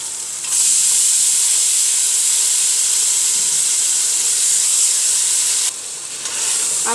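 Kidney beans dropped into fried masala in a pot set off a sudden loud, steady hiss of frying that holds for several seconds, dips briefly, then rises again.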